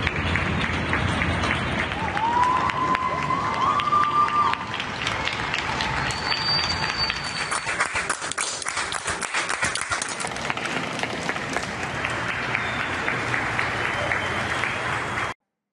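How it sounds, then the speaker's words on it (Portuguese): Sustained applause from a large crowd paying tribute to the Brazilian comedian Paulo Gustavo, a steady, dense wash of clapping that holds at an even level throughout before cutting off abruptly. "Para você, Paulo Gustavo, todos os aplausos."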